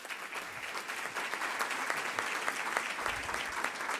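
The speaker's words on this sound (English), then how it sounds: "please give him a round of applause." Polite crowd applause for a speaker arriving at a civic club luncheon, moderately quiet and steady, dense claps filling the room throughout.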